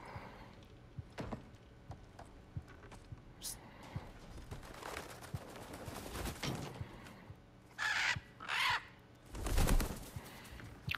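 Crows caw, Odin's birds in God of War Ragnarök, with a few harsh calls bunched near the end over a low, busy game ambience.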